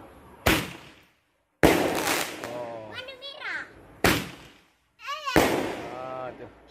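Roman candle 8-shot firework launching and bursting outdoors: several sharp, loud blasts spaced a second or so apart, each followed by crackling and a decaying roar, with excited voices talking in between.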